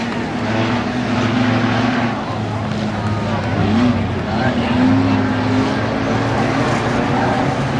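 Race car number 11 at Langley Speedway running on its bare wheel rim, a loud continuous engine drone with grinding, squealing tones from the track, an announcer talking over it.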